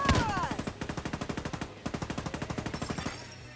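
Rapid automatic gunfire in Tom Clancy's The Division 2, a fast rhythmic burst of evenly spaced shots that pauses briefly and resumes, close and sharp.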